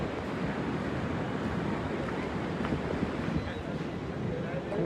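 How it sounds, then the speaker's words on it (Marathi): Floodwater of the Godavari river in Nashik rushing in a steady, dense roar with wind buffeting the microphone, continuous throughout without clear speech. "खूप जास्त पूर आलेला आहे गाईज आणि बघू शकता डायरेक्ट इकडं पाणी आलेलं आहे"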